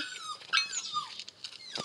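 A Border Terrier whimpering in the background, a run of high, thin whines and squeaks rising and falling in quick succession, moderately close and fairly quiet.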